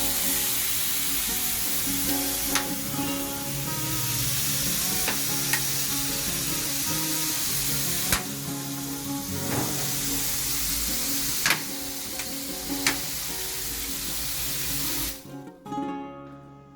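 Lamb chitterlings cooking over medium, steady heat on a parrilla grill alongside lamb sausages, giving a continuous crackling sizzle with occasional sharp pops and taps, no voices.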